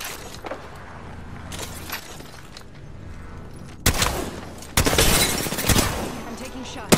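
Video-game gunfire erupts in loud, close bursts, with a sustained volley in the second half after quieter background action, and a player talking through it.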